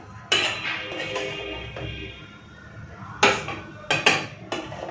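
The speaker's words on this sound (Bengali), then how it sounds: "ভাতটা বেড়ে নিই।" Steaming hot rice served from a pot onto a plate in a home kitchen, with a few sharp metallic clinks and scrapes of a serving spoon against the pot and plate, spaced out over a low, quiet background.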